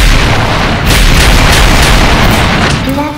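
A broadband explosion in an anime battle scene, a sustained booming roar that fills the whole stretch loudly with dense rumbling low end, easing slightly near the end as a faint tonal sound emerges.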